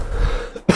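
A single short cough or throat clear near the end, preceded by low background rumble.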